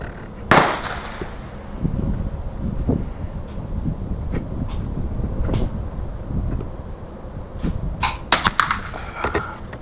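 Sharp cracks from a Winchester M190 rifle at a shooting range, one loud report near the start and a tight cluster of shots near the end over a steady windy background hum.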